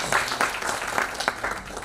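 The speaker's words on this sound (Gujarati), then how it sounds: "એને માટે પણ આપણે જોરદાર તાળી આપીએ" An award-ceremony audience bursting into applause, a dense, fairly close wash of clapping that carries evenly through the short clip.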